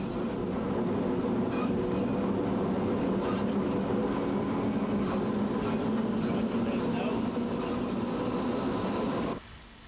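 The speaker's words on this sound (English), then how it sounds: "its long and heavy train snaking behind" An Irish peat railway locomotive pulling a long, heavy train of loaded peat wagons rumbles steadily along the track with a heavy, continuous roar and faint rhythmic clatter, close and loud, cutting off abruptly near the end.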